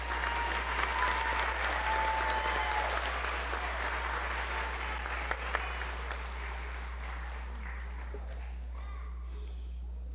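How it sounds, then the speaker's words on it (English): An audience at a school district board meeting claps for kindergarten students, a dense, steady round of applause that tapers off toward the end over a low electrical hum. "A round of applause for our kindergarten students."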